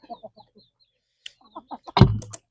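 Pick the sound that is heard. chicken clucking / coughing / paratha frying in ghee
chicken clucking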